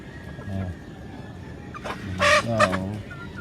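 A gamefowl rooster on a farm gives a short crow with a few clucks, close and moderately loud over a steady low background hum.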